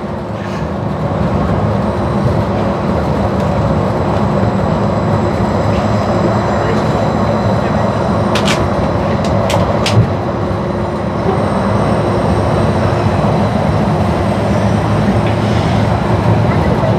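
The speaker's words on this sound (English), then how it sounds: "Oh, this monorail's moving today." A Disneyland monorail train glides along its track with a steady, continuous rumble and hum that holds at an even level throughout, with a few faint high squeaks midway.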